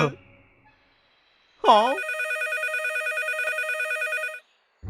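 A cartoon telephone rings in a steady, bright electronic trill lasting a few seconds, preceded by a short spoken bit and cut off as talk resumes.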